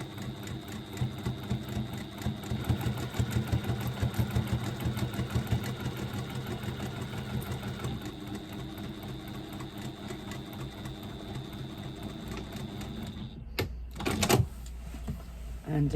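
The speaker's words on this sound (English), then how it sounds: "stitch that in place using a 3/8 of an inch seam allowance once again" A sewing machine runs steadily, stitching a 3/8-inch seam on a fabric twist pouch panel, with a continuous close whirring that stops near the end before a brief clatter.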